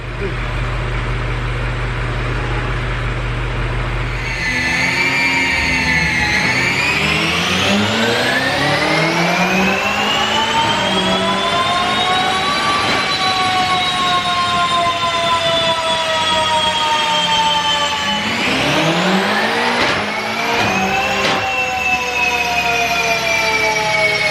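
A stock-turbo BMW F90 M5 on a dyno idles, then roars as it pulls through the gears, each rising engine tone falling back at the shift, loud and close with no talk.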